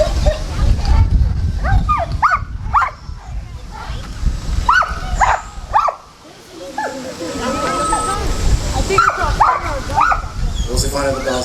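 A police dog barks in short bursts during an article search demonstration at a National Night Out community event, with people talking nearby and crowd noise around.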